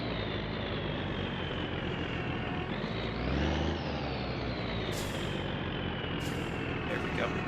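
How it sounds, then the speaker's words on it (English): A giant truck slowly reversing into a driveway in the My Summer Car video game, a steady low engine drone with a brief surge and sharp hissing bursts near the end, while a voice talks. "Gotta try to finagle this giant truck into this guy's driveway without destroying things."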